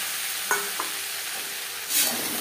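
Boiled potatoes stirred over a high-to-medium flame in a pan with a mustard and green chilli paste, giving a steady sizzle with a few spoon scrapes and one louder scrape near the end; no talk.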